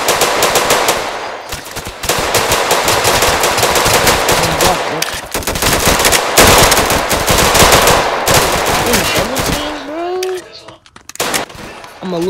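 Gunfire in a video game set in Chicago, loud and close, with rapid bursts of automatic fire and repeated shots packed densely for most of the stretch, then thinning out into a few isolated cracks near the end.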